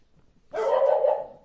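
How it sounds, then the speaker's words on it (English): A dog barks once in a single drawn-out, fairly loud bark or yelp that rings for about a second after a quiet start, heard in a home during a physics lesson. "sorry about my doggy"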